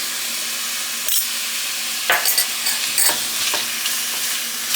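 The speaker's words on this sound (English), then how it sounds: "We are actually sauteing our cucumbers" Cucumbers sauté in a hot pan with spring onions and garlic, giving a soft continuous sizzle broken by a few brief scraping stirs.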